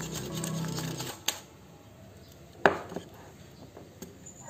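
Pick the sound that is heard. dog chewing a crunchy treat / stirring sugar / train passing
stirring sugar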